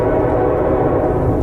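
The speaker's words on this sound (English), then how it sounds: "A train horn comes from behind even though the tracks have been ripped up long ago." A train horn sounds as a low, sustained, droning blare, loud and continuous with no voices.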